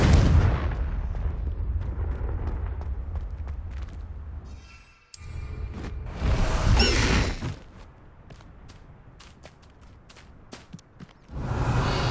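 A Confringo blasting spell from Hogwarts Legacy detonates in loud booming bursts, with several heavy explosive hits and rumbling tails separated by quieter stretches of game ambience.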